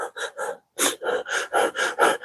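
A person doing a hyperventilation breathing exercise: rapid, forceful breaths close to the mic, about eight sharp puffs in quick rhythm with a brief pause after the third.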